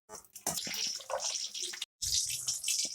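Water runs from a tap in a home kitchen in two bursts, broken by a short pause, close by and fairly loud.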